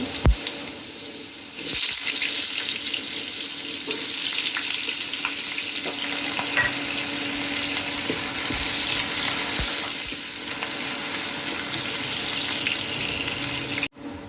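Small pieces of potato dropped into hot oil in a home kitchen pan, setting off a loud, continuous hissing sizzle that holds steady close by, with occasional clinks from the pan.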